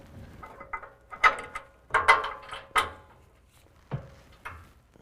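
Hand ratchet tightening a bumper mounting bolt with washer on a 2017 Ford F-150 while fitting an Iron Cross HD base front bumper: several short bursts of ratcheting clicks with pauses, close and fairly clear.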